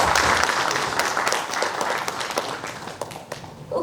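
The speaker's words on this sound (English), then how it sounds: "huge round of applause" An audience at an economics and industry pre-budget event gives panelists a hearty round of applause as they take the stage, a dense, even clatter of many hands that tapers slightly near the end.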